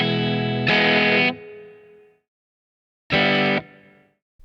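Two loud, distorted electric guitar chords ring out, each cut off and followed by a reverb tail that fades slowly into silence.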